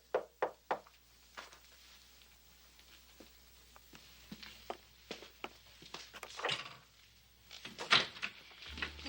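Knocking on a front door on a chilly evening, a few sharp raps at the start followed by scattered knocks and softer bumps, moderately near, with no talking.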